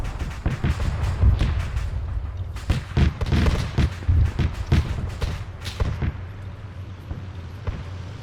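Mortar and gunfire in a WWII Stalingrad-style defense in Arma 3 Iron Front: a series of sharp booms and thuds, some clustered in rapid bursts, others spaced out, with rumbling tails between shots.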